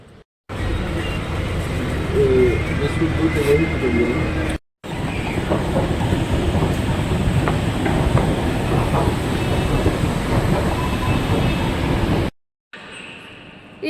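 A metro train heading toward Salt Lake Stadium rumbles and clatters steadily from inside the carriage, loud and continuous, broken by a couple of abrupt cuts.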